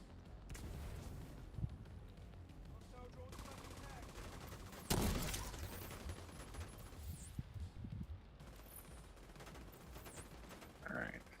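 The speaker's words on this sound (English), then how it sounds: "Last grenade going out." Grenade blasts and gunfire in a video game, with a loud burst near the middle over continuous battle noise and scattered shots, while a player talks over it.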